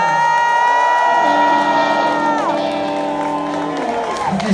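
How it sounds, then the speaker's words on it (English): Pub crowd at a live rock show cheering, whooping and shouting for the band's drummer, a loud dense roar with sustained voices and whistles filling the room, close and continuous throughout. "I want you all to give a fucking hearty hand of applause to our drummer Sean"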